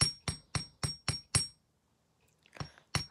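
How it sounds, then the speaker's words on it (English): Metal wire being hammered flat on a bench block for a Christmas craft: six sharp, evenly spaced ringing strikes, a pause, then two more blows, close and fairly loud with no talk. "take a bench block and hammer this down because I want this to be nice and sturdy"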